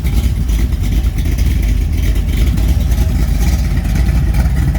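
A small block Mopar 340 stroker with Speed Master heads idles steadily in a truck, heard from behind as a loud, continuous low rumble with an even, lumpy pulse.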